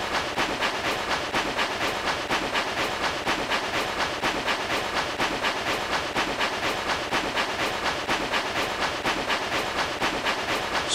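A train travels downhill on its rails with a steady rapid clickety-clack rhythm, loud and continuous, with hissing throughout and no talk.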